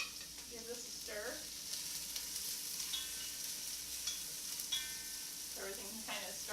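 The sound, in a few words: stirring vegan mushroom soup ingredients in oil in a pot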